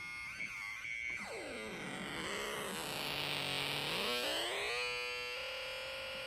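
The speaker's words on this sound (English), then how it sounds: "it gave me this really nice distortion sound that comes through" A buzzy, distorted synthesizer tone, its distortion coming from LEDs in the circuit, sweeps down in pitch, wobbles, then glides back up, harsh and continuous, with no talking.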